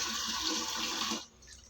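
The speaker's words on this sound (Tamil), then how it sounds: "இதை நம்ம வெள்ளையாக ஆகிற வரைக்கும் நம்ம கழுவி எடுக்கணும்." Raw fish is washed under running water, a steady broadband splash and gush that stops abruptly, leaving a faint trickle behind.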